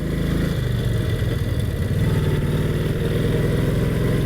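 A Brough Superior SS80, a vintage motorcycle over 80 years old, pulls away with a loud, steady engine drone that rises in pitch as it accelerates on country lanes.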